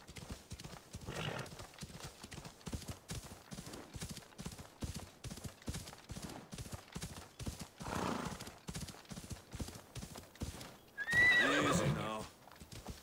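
A horse in Assassin's Creed Odyssey gallops with rapid, even clip-clop hoofbeats, giving a couple of brief neighs along the way and a loud whinny near the end, with soft speech faintly under it.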